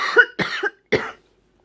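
Three harsh, separate coughs in quick succession, close and loud, from a person with a lung infection, with silence afterward.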